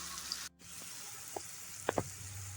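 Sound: spice masala frying in oil

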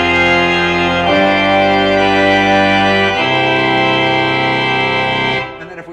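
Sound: tracker pipe organ full organ with reed stops added

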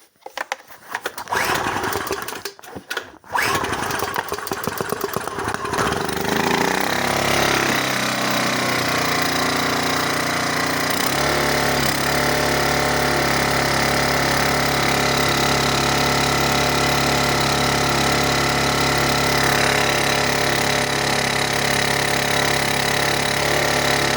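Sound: inverter generator engine running and revving

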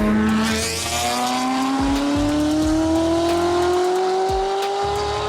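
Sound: sports car engine revving

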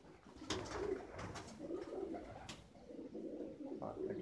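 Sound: pigeons cooing in a loft

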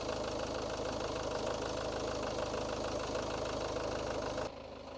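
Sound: diesel car engine idling

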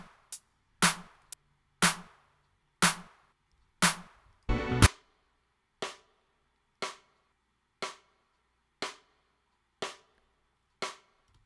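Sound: rim shot in a drum mix

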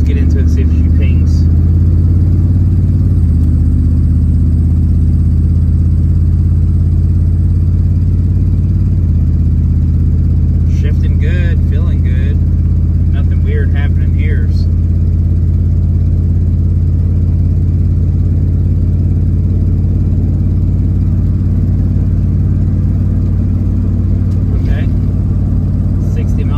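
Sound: car accelerating from a stop

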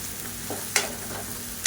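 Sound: onions and garlic frying in a pan

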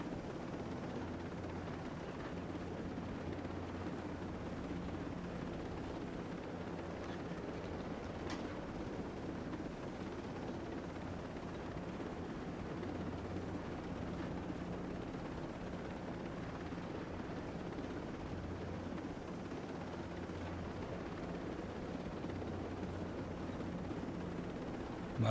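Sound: helicopter in video game

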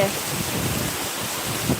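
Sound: heavy rain with wind

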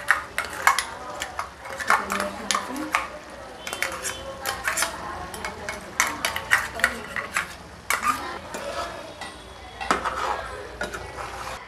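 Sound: onion paste added and stirred into curry pan

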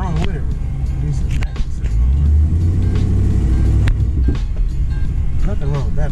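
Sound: Chevy car engine running, first test drive

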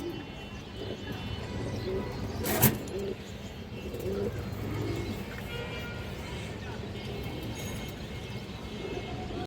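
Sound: green-necked pigeons cooing

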